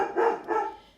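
A dog barks twice indoors, two short fairly close woofs in quick succession.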